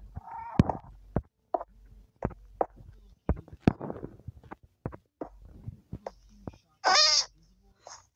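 A cat meows a few times indoors among clattering and shuffling noises, with a person talking intermittently nearby; one louder, higher cry stands out near the end.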